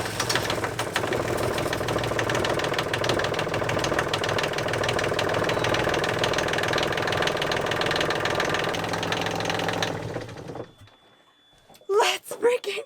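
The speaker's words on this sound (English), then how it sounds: "We are moments away from cranking this engine." A Volvo Penta boat engine runs loud and close with a rough, knocking clatter for about ten seconds, then shuts off, leaving near silence before excited voices break in.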